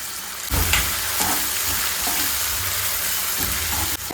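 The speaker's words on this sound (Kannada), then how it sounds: "Tomato fry ಆಗ್ತಿರಲಿ." Tomatoes fry with onion and ginger garlic paste in a pan for a North Karnataka-style stuffed brinjal dish, a loud, close, continuous sizzle broken by a few scraping stirs, with nobody speaking.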